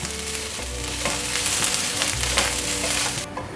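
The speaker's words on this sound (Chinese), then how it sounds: "放入大豆酥肉末、西洋芹，快速翻炒" Carrot, soy mince and celery stir-fry in hot oil in a pan, sizzling loudly and continuously up close while a spatula scrapes and tosses the food in quick strokes.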